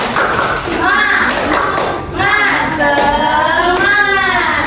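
A primary school maths class does the 'tepuk semangat' clapping rhythm. Loud group clapping and thumping are heard, with children chanting along through the whole stretch.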